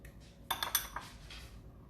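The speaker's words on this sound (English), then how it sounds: "just scoop out the avocado in here" A spoon scraping and clinking against a bowl while scooping avocado flesh from halved avocados, a short cluster of close scrapes and light clinks with quiet room tone around them.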